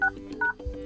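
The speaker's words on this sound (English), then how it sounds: "go to keypad, and now enter a secret code" Short DTMF keypad tones from a Redmi Note 12 Pro+ as a code is entered, several quick beeps in a row, close and clear with no talk.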